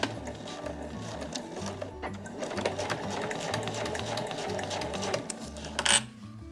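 Sewing machine stitching fabric for a granny bag, sewing a seam one centimetre from the edge; a steady fast mechanical chatter runs throughout, with a brief louder clack near the end.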